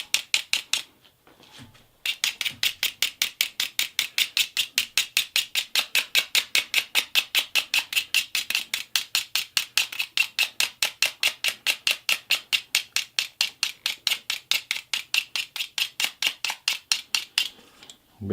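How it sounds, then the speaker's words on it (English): Rapid, evenly spaced metallic scraping strokes inside a warm golf club hosel bore after shaft removal, dozens of sharp close rasps in a steady rhythm for most of the stretch. "while it's nice and warm, we'll give it the old school scrape."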